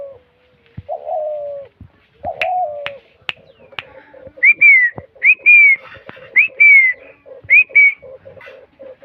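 A captive dove, either a spotted dove or a red collared dove, coos in short, repeated bursts. Sharp clicks are scattered between the calls, and a series of loud, close, whistle-like notes follows, with no talking.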